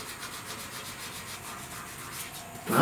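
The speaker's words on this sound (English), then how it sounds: "So again, little mini sanding block with that shape in it." A small shaped sanding block is rubbed steadily back and forth over the cowl panel of a 1969 C10, giving a close, soft, rhythmic scratchy rasp with a brief louder scrape at the end.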